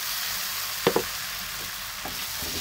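Squash pieces and lemongrass hiss in a pan after a tomato base has cooked, a constant sizzle broken by a couple of soft knocks as they go in and get stirred.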